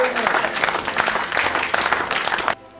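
Congregation at a night of miracles church service applauding to acclaim the Lord, dense sustained clapping with some voices mixed in, loud and steady before cutting off abruptly near the end.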